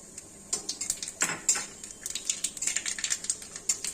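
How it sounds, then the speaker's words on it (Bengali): Nigella seeds sputtering in hot oil alongside a dried red chilli and bay leaf, rapid close crackles and pops in irregular bursts. "সুন্দর সুন্দর করে ফুটছে কালো জিরেগুলো।"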